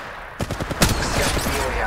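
Rapid gunfire bursts in Apex Legends Mobile, a quick string of loud, close shots with a sharp louder crack midway, followed by continued battle noise.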